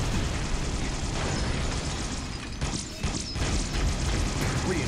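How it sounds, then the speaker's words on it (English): Grenade blast amid chaotic Halo: The Master Chief Collection firefight combat on PC, a dense, continuous roar of explosions and gunfire with a brief dip before the noise swells again. "I threw a grenade."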